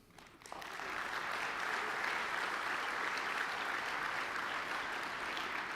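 Audience applause at the DrupalCon Lille 2023 conference keynote, swelling quickly after a brief quiet start into a steady, even wash of clapping from a large hall crowd, heard at a distance and fairly faint.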